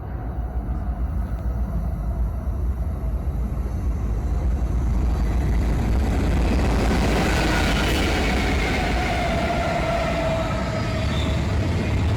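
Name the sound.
freight train passing, Coachella Valley railway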